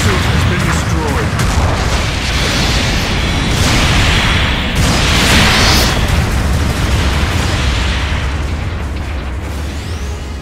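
A mobile suit blowing up in a Gundam video game: loud, continuous roaring blast noise with bursts and rumble across the whole stretch, dense and close, with voice callouts mixed in.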